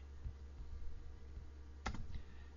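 Someone types on a computer keyboard. A few faint, sparse key clicks sit over a steady low electrical hum in a quiet room, with a brief cluster of taps near the end.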